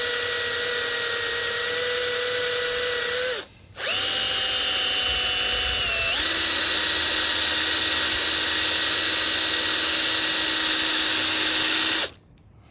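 An electric drill runs in long, steady bursts into a motorcycle's handlebars, pausing briefly and shifting pitch as it bites in, then stopping abruptly near the end.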